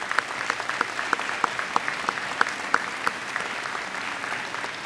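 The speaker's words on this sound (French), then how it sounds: "je vous demande de les applaudir tout simplement." An audience at a graduation ceremony claps steadily, a dense even wash of applause with a few louder individual claps standing out, held at a constant level throughout.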